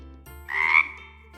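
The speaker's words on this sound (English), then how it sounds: "Frog." A frog croaks once in a short, loud burst, standing out clearly over a faint steady hum in an animal-sounds lesson for children.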